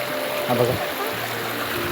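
A small stream of cold water flows steadily in a rural setting, giving a soft, continuous trickling babble close by while a person briefly speaks over it.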